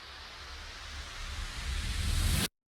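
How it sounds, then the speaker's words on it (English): A noisy riser swells steadily in brightness and loudness for a couple of seconds, then cuts off abruptly into silence. "as well as a riser."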